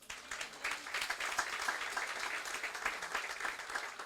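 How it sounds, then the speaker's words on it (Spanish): Church congregation claps in praise to the Lord during a sermon, a soft, steady patter of applause heard from a distance, fairly faint throughout. "¿Cuántos aplausos al Señor?"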